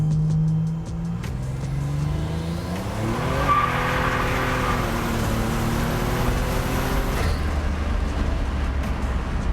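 A turbocharged 1987 Buick Grand National launches from a brake boost, its engine revving and pulling hard, pitch climbing through gears with a throaty, rising roar, nearby and loud.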